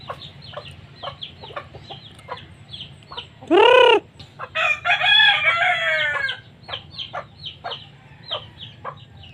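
Pet chickens clucking steadily at close range while being fed, with a rooster letting out one loud crow partway through, followed by a burst of busy squawking.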